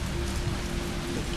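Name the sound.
rain falling in video game Resident Evil 3 Remake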